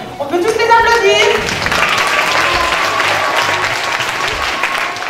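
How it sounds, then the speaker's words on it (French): Audience applause at an arts festival, a dense steady clapping from a crowd that starts loud and holds through, with a brief voice or tone at the start layered over it. "On peut tous les applaudir."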